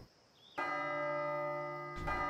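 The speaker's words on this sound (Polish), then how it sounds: "Znowu dzwon dzwoni." A church-style bell strikes in the Last Day of June video game, one loud clear chime that rings out with long sustained overtones before a second strike begins near the end.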